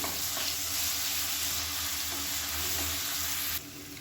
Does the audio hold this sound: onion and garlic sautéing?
yes